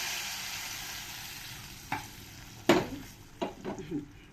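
Hot oil tempering hits a pot of whole masoor lentil curry with a sharp hiss, followed by a few scraping stirs of a spoon against the pot, close and fairly loud over a soft background hiss.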